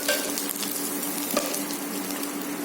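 Onions frying with curry leaves and green chilies in a pan for a tomato and taro-leaf curry, a close, steady sizzle broken by short scraping stirs of a utensil, with no talking.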